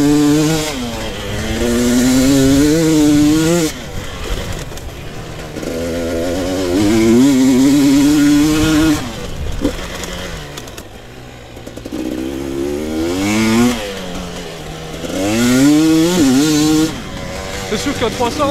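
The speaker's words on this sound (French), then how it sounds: "Je vais mettre un peu de gaz dans le champ" A 2022 GasGas EC 300 motorcycle revs repeatedly in a field, its engine pitch rising and falling in sharp sweeps as the throttle is worked, with quieter pauses between bursts.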